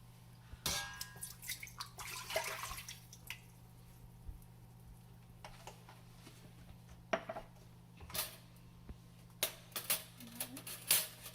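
Water from a glass poured into an Instant Pot, sounding as faint drips and splashes broken by clinks of metal and dishes in a quiet kitchen.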